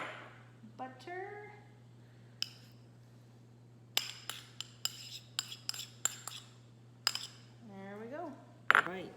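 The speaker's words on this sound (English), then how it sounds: "let me just scoop the rest of this garlic out. And the butter." A metal spoon scoops garlic and butter into a pot in a home kitchen, giving a quick series of soft clinks and taps against the pot. A voice murmurs briefly near the start and end.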